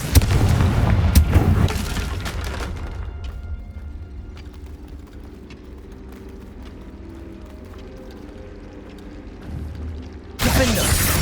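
Confringo blasting spell explosions in Hogwarts Legacy, a loud burst of booms at the start, then a quieter rumbling stretch, and another sharp blast erupting near the end.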